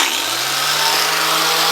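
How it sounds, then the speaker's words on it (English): An angle grinder runs on AC power drawn from an Anker 767 portable power station in a garage, a loud, steady high-pitched whine with a low motor hum, continuous and close. "So we've got things like a grinder"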